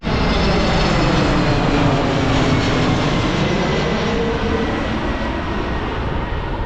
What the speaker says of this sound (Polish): tutaj w tym miejscu fajnie pooglądać sobie lądujące samoloty